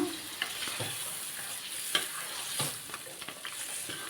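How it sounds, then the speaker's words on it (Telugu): Goat head curry frying with masala in a pan gives a steady close sizzle with a few scraping stir strokes throughout. "బాగా వేగిపోయిందండి మనం మసాలా వేస్తున్నాం"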